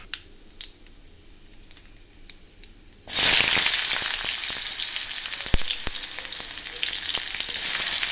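Onions are tipped into a hot pan for a methi saag dalma. After a few quiet clinks, a sudden loud, steady sizzle of frying starts, broken by occasional sharp pops and stirring clatter.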